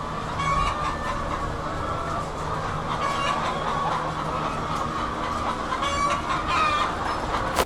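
Chickens on an egg farm with 65,000 hens cluck continuously in a dense, noisy barn chorus, with occasional sharper calls over steady mechanical hum.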